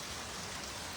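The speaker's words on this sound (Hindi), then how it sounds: "पूरी तरह से बारिश हो रही है" Heavy downpour in Bilaspur, a steady dense hiss of rain drumming on surfaces, continuous and even throughout with no voices.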